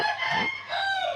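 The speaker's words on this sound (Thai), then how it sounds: "มีเสียงไก่ขันด้วย" A rooster crows nearby, one loud, sustained, strained call that rises and then bends downward, with no other sounds around it.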